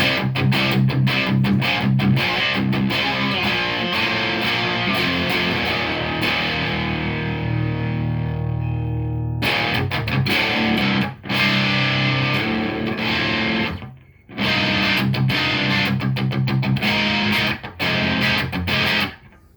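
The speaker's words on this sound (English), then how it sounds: "That is the least amount of distortion you can get out of this pedal." An electric guitar plays through a Revv G4 distortion pedal set to its lowest gain, a lightly distorted tone, chords and riffs ringing out with brief pauses, loud and up front.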